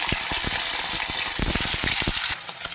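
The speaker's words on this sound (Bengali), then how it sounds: "তেলটা গরম হয়ে এসছে এবার মাছগুলো একে একে ভেজে নেব" Small chela river fish fry in hot oil in a home kitchen, giving a loud steady sizzle with crackles and scraping stirs throughout, easing slightly toward the end with no talking.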